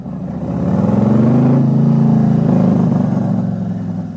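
Harley Davidson motorcycle exhaust rumbling while riding, a steady low throbbing drone that swells after the start and holds close and loud throughout, with wind roar on top and no talking.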